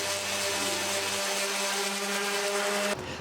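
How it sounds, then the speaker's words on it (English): An orbital sander runs on wooden roll-top desk parts, a steady loud whirring buzz with tonal hum that holds for about three seconds and then cuts off, leaving quieter background. "The orbital sander is much quicker."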